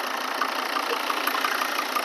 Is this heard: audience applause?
no